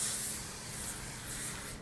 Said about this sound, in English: we want to spray it really well